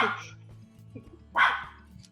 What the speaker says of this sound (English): Sorry, Nugget's gonna bark.